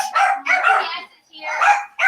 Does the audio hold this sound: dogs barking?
yes